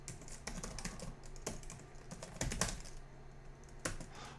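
Typing on the backlit keyboard of a 2020 Dell G5 SE 15-inch gaming laptop, a quiet close run of soft irregular key clicks with brief pauses and a few louder taps.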